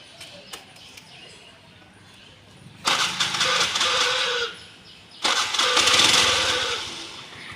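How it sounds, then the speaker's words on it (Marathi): A small scooter engine cranks and catches twice, each start rising into a steady idle for a couple of seconds, fairly close. "गाडी स्टार्ट करा"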